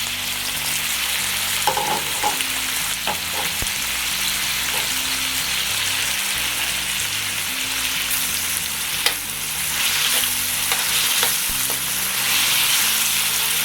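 Tomatoes fry with golden-browned garlic and onion in a hot pan, a dense, even sizzle with a few soft stirring scrapes and taps, close and steady with no speech.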